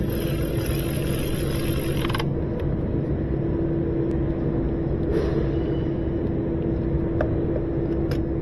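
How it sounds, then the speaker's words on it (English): An electric tool runs steadily to tighten a spark plug on a Kia Soul during an ignition coil change, giving a loud continuous mechanical whir with faint clicks and no talking. "Then just speed up the process by using your electric tool."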